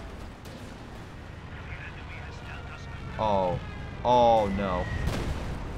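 Mortar and Stuka bomb explosions boom in the Company of Heroes 2 strategy game, with a couple of heavy blasts and scattered distant thuds over a busy battlefield backdrop while a voice briefly speaks.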